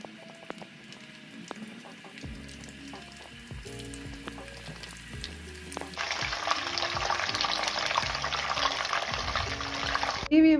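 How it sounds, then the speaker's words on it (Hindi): Mutton kebabs dropped into hot oil burst into a loud, steady sizzle after a stretch of quieter kitchen clinks and handling sounds, with a voice speaking early on. "तो चलिए इसे फ्राई करते हैं।"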